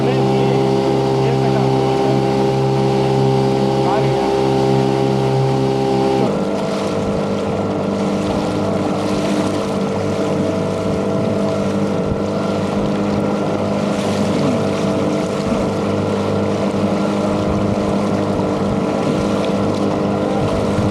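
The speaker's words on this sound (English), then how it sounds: "the wind has died down and now we're motoring" A sailboat motoring under engine power off Baja California, its steady engine drone mixed with water and wind noise, continuous and fairly loud throughout, with a shift in tone partway through.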